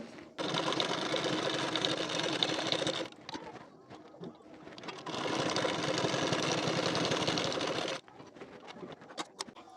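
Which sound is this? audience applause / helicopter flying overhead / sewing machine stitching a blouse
sewing machine stitching a blouse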